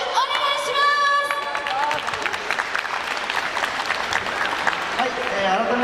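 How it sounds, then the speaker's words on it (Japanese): Audience applause at a live stage event in Osaka, a dense steady wash of clapping with a few cheers, filling the whole stretch while a held musical tone fades out near the start. "大きな拍手お願いします。"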